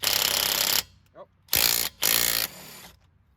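A DeWalt Atomic 1/2-inch hog ring impact wrench hammering on car lug nuts: two loud close bursts of rapid impacting separated by short gaps, then a quieter whir as the tool winds down.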